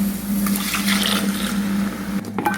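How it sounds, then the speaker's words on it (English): Water poured into an Udupi-style turkey berry curry over ground masala gravy, a steady splashing, gushing stream running close and loud for a couple of seconds before tapering off. "we'll add water."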